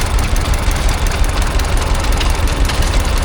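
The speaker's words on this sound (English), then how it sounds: "There's a stationary engine. It says it's a Peloton. And it's running a. Looks like it's running some sort of generator." A Peloton stationary engine running a generator at a rural pastimes show in Sussex, giving a steady, loud low-pitched chugging drone with continuous mechanical rumble throughout.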